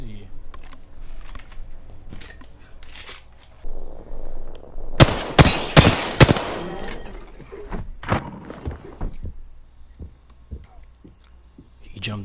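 Alternator submachine gun in an Apex Legends-style shooter firing in a few rapid bursts amid clicks and game effects, mid-loud, with someone commentating over it.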